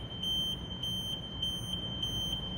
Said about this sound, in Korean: 경고 알람과 함께 모든 작동이 정지하게 됩니다.